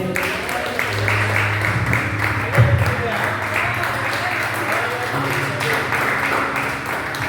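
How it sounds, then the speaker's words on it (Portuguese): Church congregation applauding the Lord during a service, a loud continuous clatter of clapping blended with sustained music and voices, with no clear break for the whole stretch. "Aplauda o Senhor, amém?"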